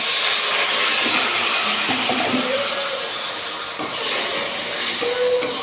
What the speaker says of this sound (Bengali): ভালো করে একটু জল দিয়ে আমি কষিয়ে নেবো আর একটু আলুটা